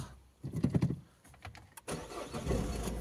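A Citroën C4 engine cranks briefly and catches, settling into a steady, close idle rumble after a few clicks.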